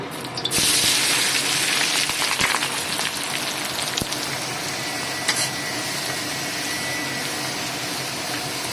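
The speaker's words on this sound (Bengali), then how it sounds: "এখানে চিমনির আওয়াজটা হচ্ছে" A kitchen chimney exhaust hood runs while onions fry in hot oil, producing a loud, steady broadband whoosh that starts abruptly and holds constant, with faint crackles and occasional clicks beneath it.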